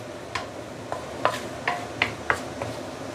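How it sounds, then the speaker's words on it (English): Curry paste sautéing in a pan over medium-low heat, with a faint sizzle under about seven soft, evenly spaced scraping strokes of a utensil, close and quiet. "slowly saute the the curry paste for a couple of minutes before we continue"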